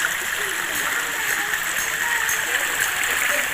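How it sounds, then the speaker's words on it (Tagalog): Spring-fed water splashes steadily in a fountain at an outdoor resort in Nasugbu, Batangas, making a continuous bright hiss and patter with no pauses. "Meron sila ditong parang fountain."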